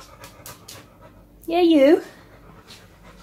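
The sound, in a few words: dog drinking and panting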